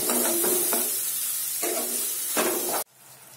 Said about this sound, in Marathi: आता छान टोमॅटोला आपण मिक्स करून घेऊया